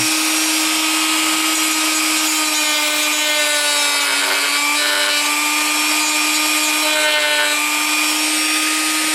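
A continuous scraping, shaving sound of a sharp barrel edge trimming plastic for a model canopy frame, steady and close, with a constant tonal hum underneath.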